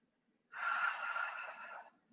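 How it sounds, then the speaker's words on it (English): During a vinyasa yoga session, a single close, breathy exhale rushes out through the mouth for about a second and a half after near silence. "Inhale through the nose and exhale from the mouth."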